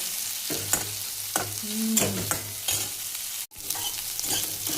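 Coriander dry-roasts in a pan for besan, with a constant soft sizzle under repeated scraping stir strokes of a utensil against the metal. No one speaks.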